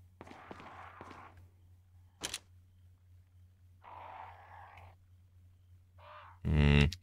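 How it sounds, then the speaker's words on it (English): Crows in the Resident Evil 4 video game give a few short, harsh caws separated by quiet gaps, moderately near, with no talking over them. "Some birds out here. Birds give you items."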